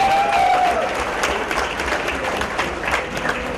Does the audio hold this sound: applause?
yes